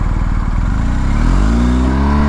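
A 2021 BMW R 1250 GS boxer motorcycle with a flashed ECU accelerates hard, its engine note climbing steadily in pitch from a low rumble to a strained rev, loud and close throughout with no talking.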